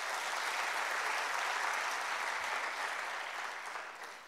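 Sustained applause from a crowd at a public lecture, steady and dense, gradually fading toward the end.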